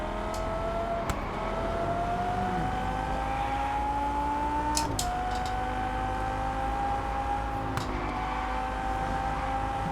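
Car engine revving in the racing video game Test Drive Unlimited, a steady, loud drone that climbs and shifts pitch with a few abrupt gear changes, continuous throughout with no talk.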